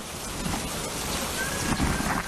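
Steady, heavy rain falls continuously in a dense, even wash of noise, with a low rumble that suggests distant thunder, and no voices present.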